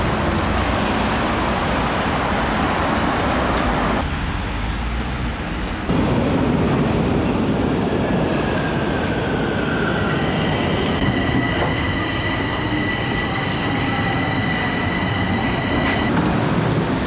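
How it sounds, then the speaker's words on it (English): Metro train at the Polytechnic University station in Romania, a loud continuous rumble of wheels on track with faint squealing tones and a short dip as it moves through. "This is the metro station of the Polytechnic University."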